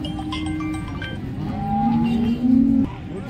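Several buffaloes low and moo amid a noisy crowd at a livestock market in Modnimb, with one long drawn-out bellow standing out near the end over the steady market hubbub.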